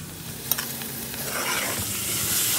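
Meat and onions are sautéed in a pot for okra stew, giving a continuous frying hiss that swells slightly, with a couple of brief stirring knocks near the start and no voices.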